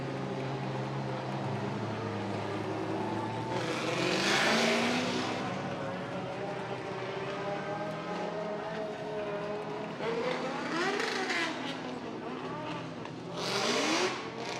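Drift race cars on the Long Beach street course roar and rev, engines rising and falling as they pass at moderate distance, with swelling whooshes of passing cars and a commentator's voice faintly underneath.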